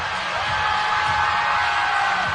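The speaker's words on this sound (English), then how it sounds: "The crowd's loving it." A basketball arena crowd at a UTRGV versus Sam Houston State game roars in a sustained, dense wall of cheering and whoops, loud and unbroken across the moment.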